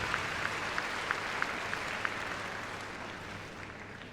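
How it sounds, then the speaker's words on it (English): Applause from an arena audience at a Crufts freestyle heelwork-to-music dog competition, a moderate steady wash of clapping with a few sharper claps near the start, fading slightly toward the end. "Give a round of applause."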